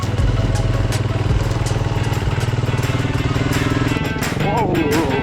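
A Honda CRF 250L dual-sport motorcycle being ridden off-road, its single-cylinder engine droning steadily and close throughout, with a brief rise in revs and rattling clatter near the end.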